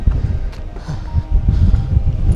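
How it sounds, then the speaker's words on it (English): Strong gusts buffet the microphone on a hike in Garajonay National Park, La Gomera, a loud low rumble that swells and surges throughout without a break. "It's so windy here."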